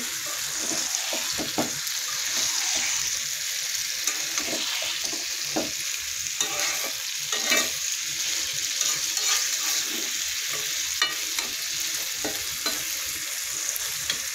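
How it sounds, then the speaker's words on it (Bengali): Fish curry fries in a pan while being stirred, giving a continuous loud hiss of sizzling oil with irregular scraping and stirring strokes, and no voices. "আর একটু নেড়ে করে নেব।"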